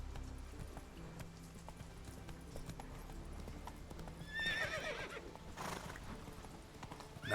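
Hooves of a horse clip-clop at a walk in The Witcher 3 video game, followed by a loud whinnying neigh near the end, close and clear over faint game ambience.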